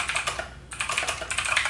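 Rapid clicking keystrokes on a Turbot waterproof RGB keyboard, steady bursts of typing with a brief pause midway, close and fairly loud with no talking.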